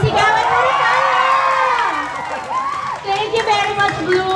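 Fans at a BINI livestream fan event shout and cheer together, a loud, sustained high-pitched crowd roar with whoops that rises and dips, surging again at the end.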